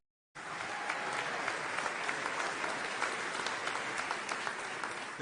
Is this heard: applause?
yes